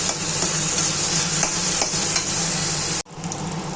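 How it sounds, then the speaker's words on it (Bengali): Boiled leafy greens (shak) stir-fried in a pan, a steady close sizzle with repeated scraping strokes of the spatula, cutting off abruptly near the end. "তো এইটা আমি এবার ভাজা ভাজা করে উঠিয়ে নেব"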